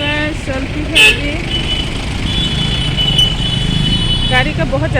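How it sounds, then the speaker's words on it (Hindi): Busy roadside traffic where rickshaws run makes a continuous loud engine rumble, with several vehicle horns tooting at intervals, some short and some held, while voices talk nearby. "गाड़ी का बहुत ज़्यादा शोर है यहाँ पे।"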